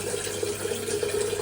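Water runs steadily into a large pot, at least four litres, for making homemade tulsi and mint green tea, a continuous close hiss with no talk.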